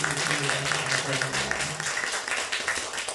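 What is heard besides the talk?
congregation applause in church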